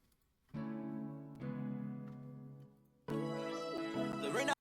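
Piano notes from FL Studio with light reverb and EQ, sustained chords ringing close and clear, shifting to a brighter, fuller passage partway through, no voices.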